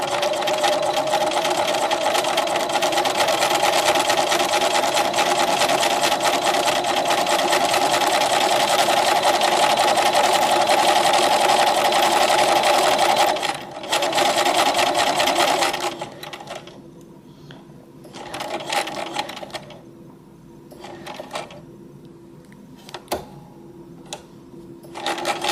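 A sewing machine stitches the front and back of a piece of fabric together, running in a loud, continuous whir for about fifteen seconds, then falling to short bursts and scattered clicks.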